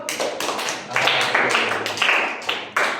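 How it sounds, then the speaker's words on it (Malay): An audience seated at the back of a classroom claps in short, uneven bursts of tapping hand strikes, fairly close and loud, with a few sharper claps standing out. "Bagi tepukan sikit yang belakang"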